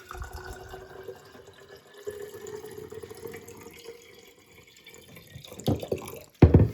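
Water runs from a tap into a glass for several seconds, followed by a couple of louder clinks and knocks near the end.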